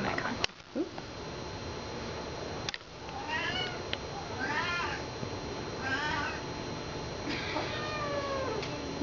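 A cat meows several times in a row, drawn-out plaintive calls, close by and fairly loud, with a few soft clicks and rustles in between.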